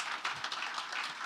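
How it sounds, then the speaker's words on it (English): An audience at a stock exchange listing ceremony claps in a brief, dense burst of applause, moderately faint and steady. "I think it's a good time to clap for NGX."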